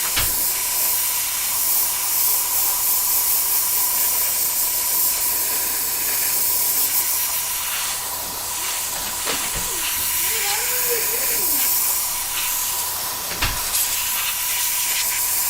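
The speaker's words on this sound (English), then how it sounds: "So I'll just spray some air on it." Compressed air hisses steadily onto a freshly repainted Jordan 3 sneaker midsole, a broad continuous spray at close range with a faint steady hum underneath and a brief soft voice mid-way.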